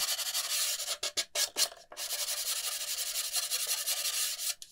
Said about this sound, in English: Then just sand all the edges until smooth.